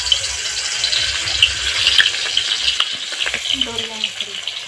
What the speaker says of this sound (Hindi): तो चलिए मछली फ्राई करते हैं आज।